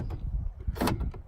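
Power door locks on a 2010 Ford F150 actuate with a quick mechanical clunk, near and fairly loud, following softer handling noises inside the truck's door.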